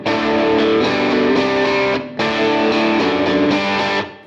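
Overdriven electric guitar through a Jackson Audio Broken Arrow on its bright yellow boost setting plays loud, compressed sustained chords, with a short break midway and a fade at the end.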